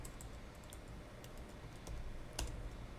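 Quiet, quick keystrokes on a computer keyboard as a SQL query is typed, the clicks arriving in short irregular bursts with one sharper tap near the end, with no voice heard.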